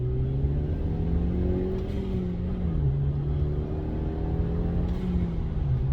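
A 240 bhp Skoda Octavia vRS turbo petrol engine pulls on a busy road, heard from inside as a steady, loud droning hum that climbs gently and dips once as a gear changes.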